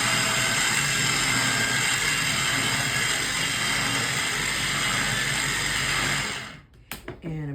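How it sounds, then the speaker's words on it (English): A small blender whirs steadily at full speed, blending cottage cheese with three-quarters of a cup of milk, loud and continuous before cutting off abruptly near the end with a few rattling clunks. "I'm going to blend this to smooth out the cottage cheese a little bit"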